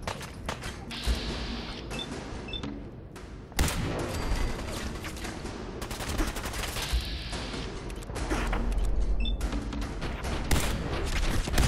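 Gunfire from the player's weapon in Fallout 4, with repeated sharp bursts of shots that rise in intensity partway through, punctuated by heavy thumps amid constant combat noise.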